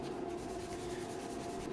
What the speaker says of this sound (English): I just started sanding things, getting all the edges taken care of